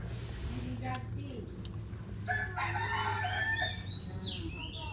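A rooster crows over a busy background of voices and clucking chickens in a Malaysian village, moderately distant amid steady ambient noise.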